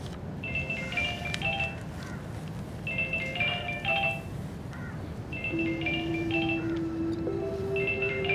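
A phone ringtone plays a repeating melodic electronic tone in bursts, three to four times, over a low steady background hum in a domestic drama setting, with a sustained beep tone near the end.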